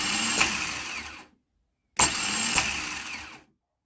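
A faulty car starter motor cranking in two bursts of just over a second each, separated by silence, a whirring, grinding churn heard up close.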